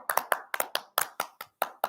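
Hand clapping in a steady rhythm, about a dozen sharp, close claps spaced evenly with brief silences between, no voices.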